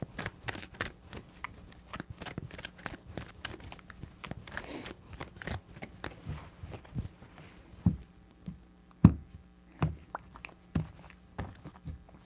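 Tarot cards are shuffled by hand in quick, crisp riffling bursts and soft slaps, close and fairly quiet, with irregular pauses between shuffles.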